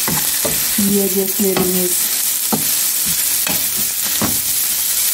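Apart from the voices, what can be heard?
stirring green beans with spices in a pot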